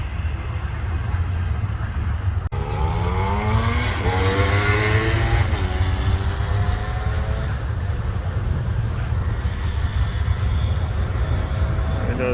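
A 1979 Yamaha DT dirt bike engine with a freshly fixed carburetor and homemade jet runs loud and close throughout, with rising and falling revs in the middle before settling into a steady buzzing idle.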